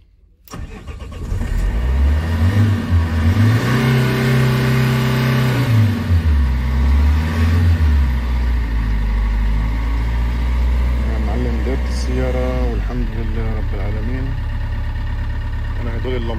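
A Renault Master van's engine, with an EDC15C13 ECU whose immobilizer was disabled, cranks and catches, revs up and down a few times, then settles into a steady close idle, with a voice speaking briefly near the end.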